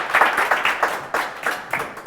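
Studio audience applause on a Turkish TV comedy show, moderately loud clapping with a rhythmic, pulsing feel, as if many people clap roughly in time.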